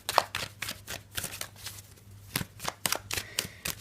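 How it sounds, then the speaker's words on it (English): Tarot cards shuffled in steady bursts of crisp riffling and slapping, close and fairly quiet, with no voice over it. "let's give the cards a bit of a shuffle"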